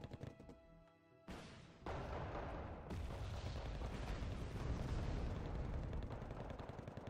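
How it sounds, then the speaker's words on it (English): Artillery barrage in Wargame: Red Dragon: after a quieter stretch, heavy booming impacts arrive and build into a continuous rumbling wall of distant and near explosions that keeps rolling. "There is a now barrage coming forward."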